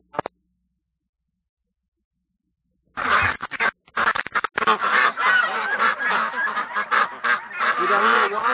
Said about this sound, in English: we got a little wild duck outside the pen waiting